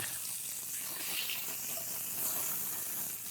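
Chateaubriand beef searing in a hot pan gives a steady, broad hiss and sizzle that is soft and continuous and runs unbroken throughout, with no voices.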